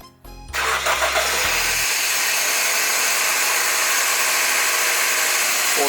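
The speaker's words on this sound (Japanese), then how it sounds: "これが点火前のコールドスタート時のエンジンノイズです。" A car engine cold-started at about 10°C outside, with fresh oil and before a molybdenum additive is added: a brief starter crank catches within a second, then a loud, close, steady engine roar holds without a break, and no one speaks.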